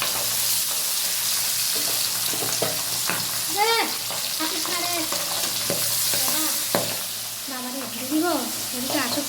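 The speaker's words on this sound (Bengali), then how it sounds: "তেলটা গরম হয়েছে পাবদা মাছটা ঢাল" Pabda fish frying in hot oil in a home kitchen, a steady crackling sizzle throughout, with voices talking intermittently over it.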